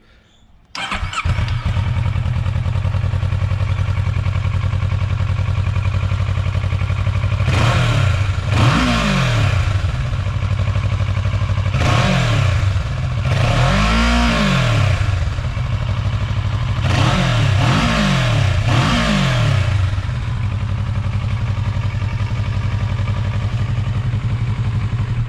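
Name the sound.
2015 Kawasaki Versys 650 motorcycle revving with stock exhaust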